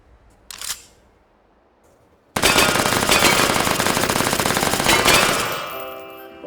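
P90 submachine gun firing in the VR game H3VR: a brief click, a pause, then a loud, continuous full-auto stream of rapid shots that cuts off with a fading metallic ring.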